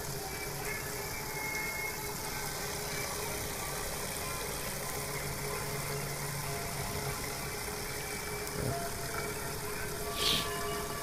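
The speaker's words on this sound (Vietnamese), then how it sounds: "sau đây mình sẽ cấp nguồn ra động cơ để bơm" An electric motor pumps water through a flow meter, giving a steady, even hum that runs continuously, with a brief faint click and a short higher squeak near the end.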